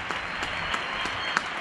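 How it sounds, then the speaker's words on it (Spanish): Neighbours in Getxo applauding healthcare workers from their homes during strict lockdown, a steady spread of many hands clapping with a few sharper nearby claps standing out, continuous and moderately distant. "duodécimo día de aplauso sanitario"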